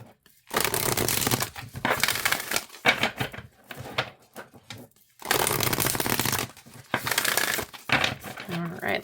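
Cards are riffle-shuffled in several quick bursts of dense ruffling, separated by short pauses, close up.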